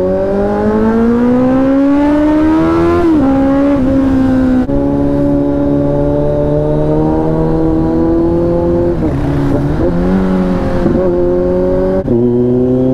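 A Kawasaki Z900 superbike engine screams loudly as it accelerates through the gears, pitch climbing steadily then dropping at each shift, with a steady roar of wind underneath.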